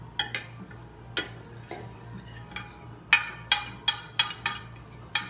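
Rice and water stirred in a pan for a one-pan chicken and rice dinner: a spoon knocks and scrapes against the pan in a string of sharp, close clinks, sparse at first and then quicker and more regular.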